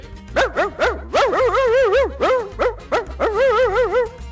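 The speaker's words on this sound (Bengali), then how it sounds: "ওই দেখো কুকুর যেন কি খাচ্ছে" Cartoon dog yelping and barking in quick bursts while gobbling stolen picnic meat, high whiny barks in rapid series over light background music.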